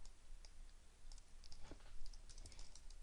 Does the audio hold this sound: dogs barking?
no